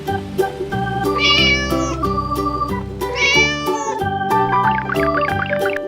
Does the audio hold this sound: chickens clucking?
no